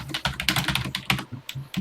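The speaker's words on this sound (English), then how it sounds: "And let's start typing." Quick, close keystrokes on a computer keyboard while a TI Extended BASIC program is typed in, an irregular clatter of taps with brief pauses, alone with no voices.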